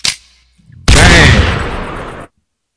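A gunshot sound effect in a talk-show break: a short thump, then a loud, harsh blast that holds for about a second and a half before cutting off abruptly into silence.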